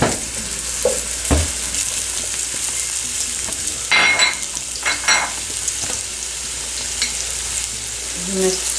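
Chopped onion hits hot oil in a pan for cassava leaf sauce with smoked fish, giving a continuous close sizzle with a few stirring scrapes and clinks, no voices.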